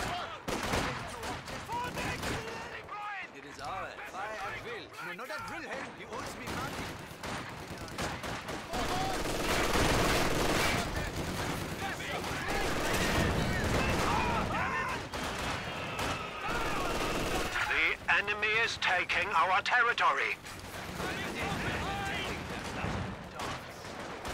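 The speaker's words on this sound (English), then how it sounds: "That's a bad angle for my machine gun." Sustained machine gun fire and scattered gunshots crackle through a Company of Heroes 2 World War II battle, dense bursts layered over a constant rumble of combat for the whole stretch, with some voice mixed in.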